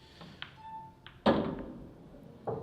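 Cue ball striking other balls on a snooker table in a professional match, a sharp single knock followed by softer clicks, fairly close and alone.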